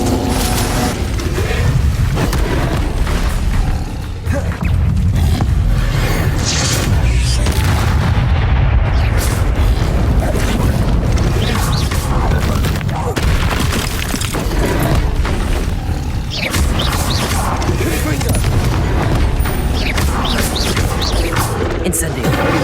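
Confringo and Incendio spells blast repeatedly during a Hogwarts Legacy fight, a dense run of loud booms, fiery bursts and crashing impacts that carries on without a break, with a voice speaking through it.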